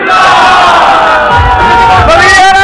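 A large crowd at a Pakistani political rally roars a slogan back in unison, a loud, sustained mass shout of many voices with echoing cheers.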